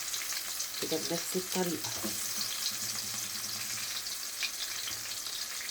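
Food sizzles and crackles steadily in hot ghee, a close and continuous frying hiss, with someone briefly talking over it.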